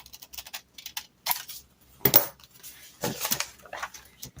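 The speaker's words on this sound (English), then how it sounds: "these vintage scissors here, they make a really good cutting sound" Vintage scissors snipping paper in close, quiet bursts, each a short crisp crunch with a slight metallic edge, repeated irregularly with brief silences between cuts.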